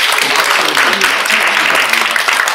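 Seminar audience gives a steady round of applause, a thick even patter of many hands close by. A voice is faintly present underneath.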